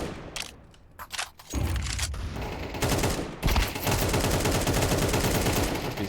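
Gunfire exchange in Counter-Strike 2 during a tournament match: dense bursts of rapid rifle fire, some sparse shots early then continuous overlapping volleys, loud and close.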